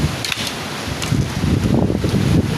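Storm wind gusting across an orchard of swaying trees, a loud rushing roar buffeting the microphone with rustling leaves, continuous throughout with no speech.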